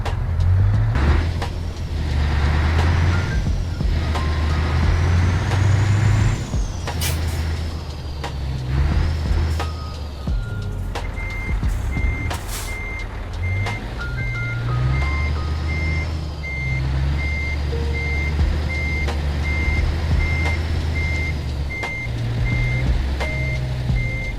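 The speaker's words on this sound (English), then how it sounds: "Let's unhook this trailer and park the truck on the next gate." In a truck simulator game, a truck rumbles at close range while parking, its engine drone steady and a regular electronic reversing beep repeating through the second half.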